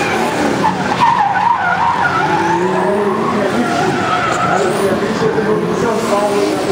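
BMW cars drifting at a drift event, a continuous loud tire skid with engine roar throughout, steady and close, with a crowd and voices faintly in the background.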